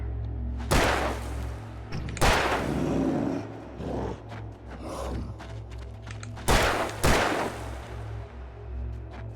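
Gunfire in the horror action game Alan Wake, a handful of sharp, loud shots spaced irregularly over a low ambient hum, some in quick pairs.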